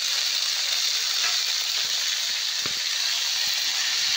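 Vegetables sizzling in a pan with no spices, onion, garlic or ginger, a dense, even hiss heard close up with a few faint stirring knocks and no voices.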